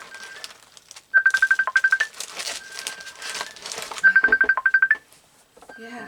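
A computer ringtone trills in two bursts of rapid repeated electronic tones, loud and close, separated by quieter rustling and crinkling of paper and craft materials being handled at a desk.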